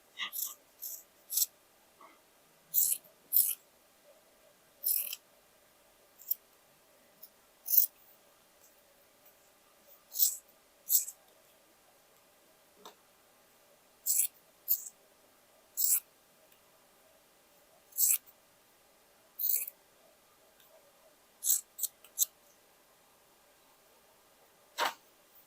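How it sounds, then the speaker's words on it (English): Scissors cutting through a sweatshirt sleeve in a quiet room, a series of short, crisp snips spaced a second or two apart, close and fairly faint against near silence. "Let's cut the other sleeve."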